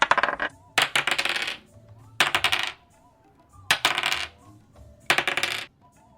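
Dice rolled for a Star Wars Edge of the Empire tabletop role-playing session, four separate bursts of clattering and rattling, each lasting under a second and spaced by short pauses, loud and close.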